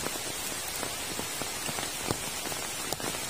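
Steady rain falls on a remote Javanese village, a dense even hiss with scattered nearby drops tapping on surfaces, unbroken throughout and with no voices.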